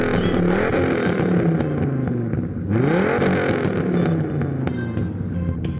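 A Dodge Challenger engine revs close up, loud throaty pitch rising and falling in two strong sweeps with a brief dip between, alone without talk.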